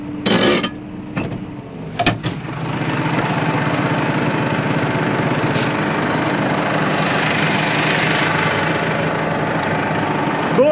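A farm tractor's engine drones steadily from inside the closed cab while feeding cows, a low, even, loud hum that settles in after a few knocks and clatters at the start.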